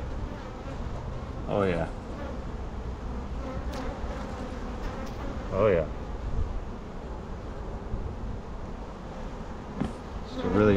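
Honey bees buzz steadily around an open hive in a nuc yard, a dense close drone throughout while someone talks over it.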